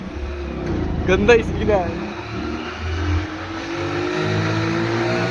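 Cars crawl through heavy traffic on a college's first day, with engine rumble and revving under loud nearby talk and shouting throughout.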